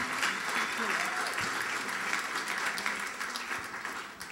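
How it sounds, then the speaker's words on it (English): A crowd's applause fills an award event hall, a steady wash of clapping that stays fairly distant and even throughout while voices murmur underneath. "give yourselves a round of applause"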